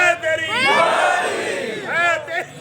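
A crowd at a religious gathering honoring Ali chants the slogan Naara-e-Haidari, several voices swelling together in one loud sustained call, then a shorter second burst near the end.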